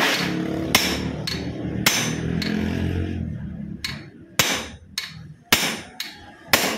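Sharp metal hammer blows strike an R180 engine magneto to loosen it, a few spaced hits over a rumbling background, then a quicker run of loud, isolated whacks in near silence.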